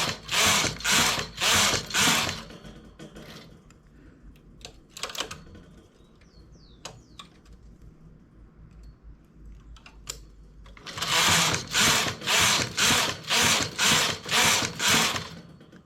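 A domestic knitting machine carriage sweeps back and forth in fast rhythmic bursts of clacking needles while knitting rows of a lace-detail sleeve, with a quiet pause of light handling clicks between the runs.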